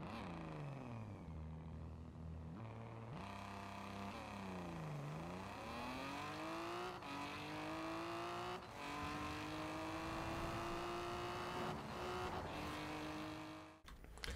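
Lotus 340R in Forza Horizon 4 accelerating hard, its engine note climbing steadily through several gear changes and revving up again after each shift, loud and continuous with no talking.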